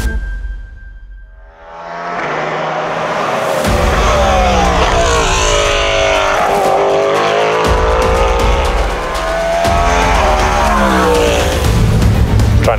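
A Cadillac V-LMDh prototype race car on the Atlanta track, its engine rising from quiet into a loud, sustained roar with shifting pitch as it accelerates through gears, running close and continuous.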